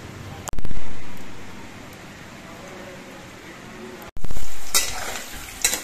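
Potatoes frying in hot oil in a wok, loud bursts of sizzling that come and go as they are stirred, with scraping and clinks between, close up.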